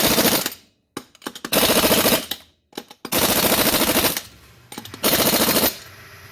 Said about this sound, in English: I cannot over tighten the lug nuts using the torque stick